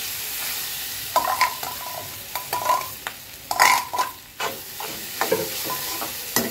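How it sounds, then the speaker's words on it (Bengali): Chana dal paste fries in hot white oil, with a soft background sizzle broken by repeated scraping stirs of a spoon against the pan. The strokes come in irregular bursts, close and clear. "এই সাদা তেলের মধ্যে আমি দিয়ে দিচ্ছি এই ডাল বাটাটা"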